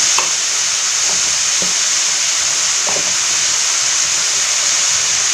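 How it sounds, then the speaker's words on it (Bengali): Spices frying in oil for a fish curry, a loud, continuous, close-up hiss and sizzle from the pan with a few faint clicks of stirring, and no voices. "আমি তেল দিয়েই কষিয়ে নিচ্ছি।"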